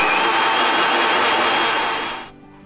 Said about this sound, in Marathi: हे आपल्याला मिक्सरमध्ये वाटून घ्यायचं आहे.